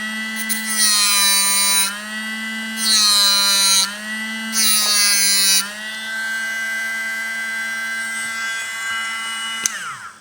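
INGCO CMGLI0801 8V cordless mini grinder spinning at high speed with a steady whine, touched three times against a worn screwdriver tip for harsh grinding bursts, then running freely before stopping.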